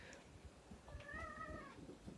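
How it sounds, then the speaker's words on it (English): An indoor house cat gives a faint, drawn-out meow late at night, a single wavering cry rising out of quiet room noise about a second in and fading after roughly a second. "That's my cat"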